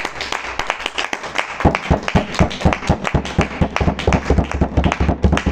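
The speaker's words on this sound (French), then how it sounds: "Applaudissons encore pour le Seigneur." A church congregation claps together in a quick, rhythmic beat, the sharp hand claps close and loud, repeating steadily throughout the stretch.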